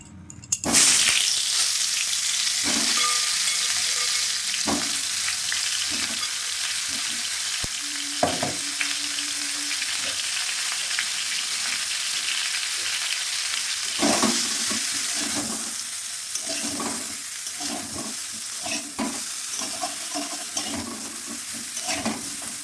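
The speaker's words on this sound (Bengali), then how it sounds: "এবার আমি নুন মাখিয়ে ফুলকপিগুলি ভেজে নিলাম" Salted cauliflower pieces frying in hot oil in a pan, a loud continuous sizzle with repeated scraping and stirring clatter, and several sharp utensil knocks against the pan, heard close up without talk.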